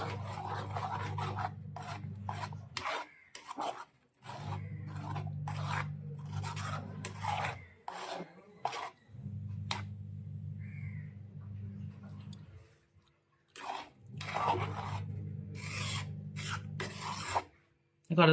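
A spoon rasps against a pot as coconut curry paste for mango pulissery is stirred, coming in steady scraping strokes separated by short pauses.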